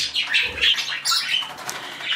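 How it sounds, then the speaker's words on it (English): A pet lovebird let out of its cage indoors, its wings flapping in quick close bursts, with light rustling and brief chirps. "And now I'll let my lovebird out because he doesn't like my lorikeet"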